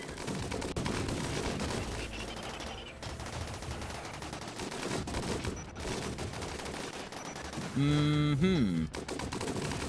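Troops in a video game fire at charge lancers in dense, rapid, continuous gunfire that rattles on throughout. A brief murmur is heard, and a rising and falling tonal effect sounds near the end.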